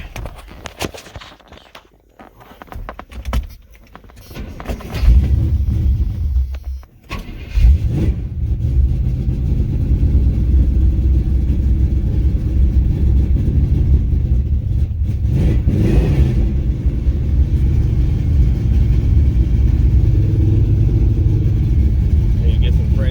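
A carbureted Vortec 350 V8 swapped into a 1986 Chevy Silverado cranks and fires up after a few seconds of handling noises, then settles into a loud, steady rumbling idle with occasional revs, with some talk nearby.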